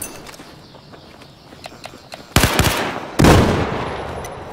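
AEK-971 assault rifle fire in Battlefield 4 on the Lancang Dam map: quiet ambience with faint bird cooing, then two loud, close bursts of automatic fire.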